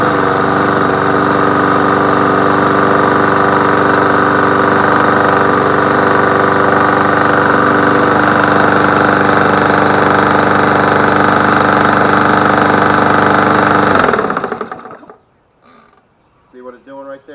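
MTD Yard Machine push mower engine with an auto choke running loud and steady with a droning hum, then cutting out near the end and falling to near silence.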